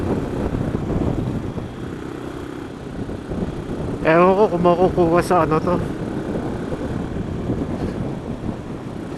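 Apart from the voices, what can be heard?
strong wind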